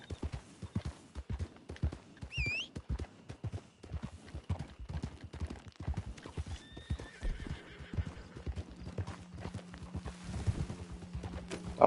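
Horse in Red Dead Redemption 2 Online clip-clopping steadily along at a walk, hooves thudding close and rhythmic throughout, with a couple of short whinnies and snorts partway through.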